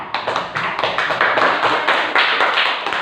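A classroom full of students clapping after a group presentation, continuous and fairly loud, with individual claps popping out of the steady rattle.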